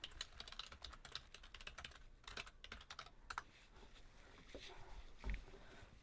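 Quick, uneven clicks of typing on a computer keyboard come through faintly and close by, thinning out partway through, with no one speaking.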